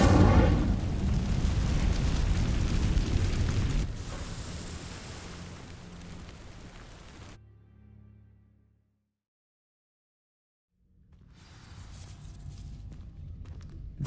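The Incendio fire spell igniting dry vines in Hogwarts Legacy: a loud, roaring whoosh of flame that burns steadily, fades to silence, then returns as quieter crackling rumble.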